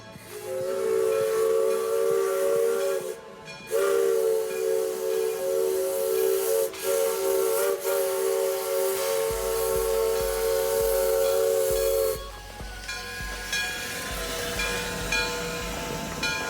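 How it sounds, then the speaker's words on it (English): Dixiana, a steam logging locomotive at Roaring Camp, blows a loud sustained whistle in two long blasts over a constant steam hiss, then the hissing and chuffing continue after the whistle stops. "we are greeted by the Dixiana, one of the logging locomotives of Roaring Camp."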